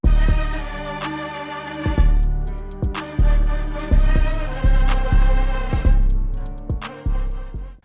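Dark morning strings from the Arturia Augmented Strings preset play over punchy drums, crisp hi-hats and a booming 808 bass that pulses in a steady beat, loud and dense throughout.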